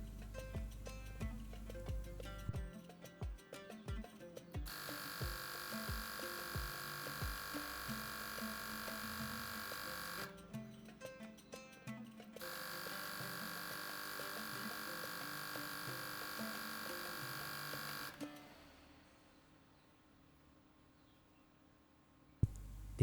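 A Volcano vaporizer's air pump, converted from 110 V to 220 V and partly disassembled, runs as a steady electric hum and buzz that cuts out briefly twice, then stops near the end, leaving faint background noise.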